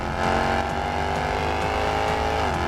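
A Jaguar XE SV Project 8 accelerates hard, its engine note a loud, sustained drone that rises slightly in pitch throughout, heard up close from inside the car.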